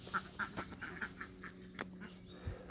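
Farm ducks quack in a quick run of short, nasal calls, moderately close, followed by a few scattered quacks and a low thump near the end.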